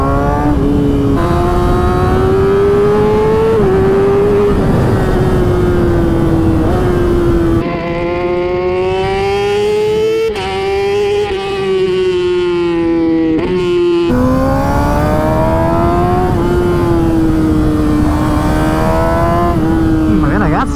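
A 2006 Yamaha R6 sport motorcycle engine roars loudly and continuously, pitch climbing and dropping through gear changes as it accelerates hard, close and dominant throughout.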